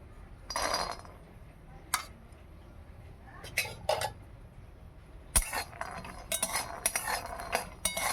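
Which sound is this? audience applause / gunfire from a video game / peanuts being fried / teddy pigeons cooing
peanuts being fried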